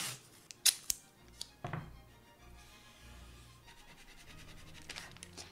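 Tape pulled off a roll and torn for a rose drawing, with a few sharp rips and snaps early on, then softer scratching and rustling, close and quiet.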